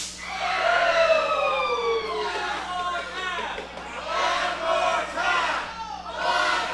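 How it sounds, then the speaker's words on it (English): A wrestling crowd at a ProSouth Wrestling event chants loudly in rising and falling rhythmic waves of many voices, filling the arena continuously. "The crowd chanting one more time."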